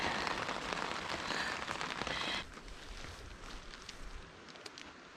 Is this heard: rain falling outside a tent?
yes